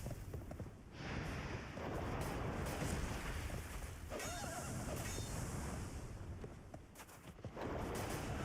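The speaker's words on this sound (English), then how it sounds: "Wasn't expecting a second horse." Horses neighing in the video game Dark Souls 2 during a combat fight, shrill whinnies over a dense, roaring rumble of wind and battle sounds.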